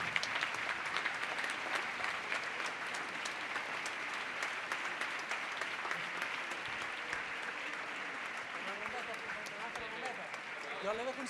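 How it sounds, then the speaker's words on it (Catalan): Sustained applause from an audience at a La Patum cultural performance, a dense steady wash of many hands clapping throughout, with some voices and cheering rising near the end. "Sisplau, un fort aplaudiment per tota aquesta gent."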